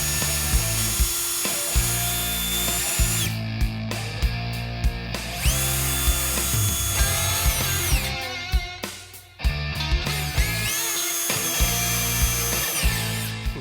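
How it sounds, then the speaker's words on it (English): A power drill pre-drills holes through drywall for a TV wall mount, whirring loudly and close in repeated runs, with brief stops and restarts, and a pause where the bit pushes through. "We'll pre-drill even the ones that we did before"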